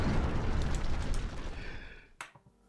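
Bomb explosion in the video game Keep Talking and Nobody Explodes: a loud, deep, rumbling blast that decays over about two seconds, then a sharp closing impact with a couple of small echoing knocks; no talking.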